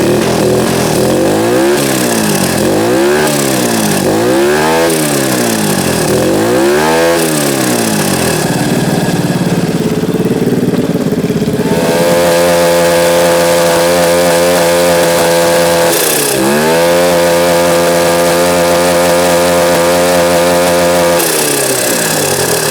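A turbocharged 150cc go-kart engine free-revs hard and loud, its pitch swinging up and down in repeated rapid blips, then holding at a steady high drone with a brief dip before climbing again.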